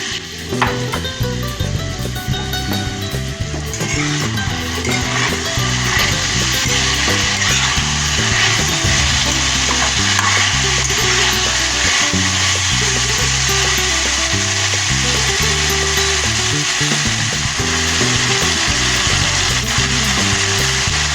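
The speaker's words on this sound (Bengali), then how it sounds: "সবজিগুলো ভাজা ভাজা হয়ে গেছে" Vegetables for veg chow mein fry with salt and chilli powder in a loud, continuous hiss and crackle, close by, with scraping of the stirring mixed in.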